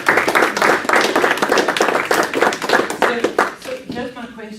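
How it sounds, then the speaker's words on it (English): Applause from an audience at a business mindset talk, rhythmic clapping at close range that becomes more scattered and fades near the end. "Please give her a round of applause."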